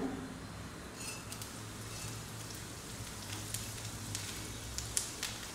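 Fennel seeds hit a hot pan of half-fried onions, giving a steady soft sizzle and crackle with scattered small pops throughout, fairly quiet and close.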